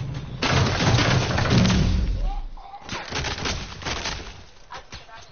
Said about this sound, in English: I just got freaking sniped in the back of the head.